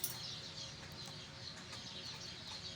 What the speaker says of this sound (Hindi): देखेंगे ऐसा मुर्गा हमारा।